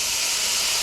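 Sauce for Sichuan fish fragrant pork hits a smoking hot wok in a sudden loud, steady hiss of steam that fills the whole short moment, close up and without talking.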